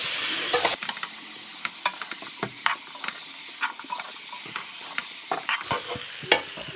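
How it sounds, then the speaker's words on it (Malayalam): Chopped jackfruit is stirred into masala in a pan, with repeated close scraping and clanking strokes of a spoon over a light hissing sizzle, no voices. "ചക്കയോട് ചേർത്ത് എല്ലാം നന്നായിട്ട് മിക്സ് ചെയ്തെടുക്കാം"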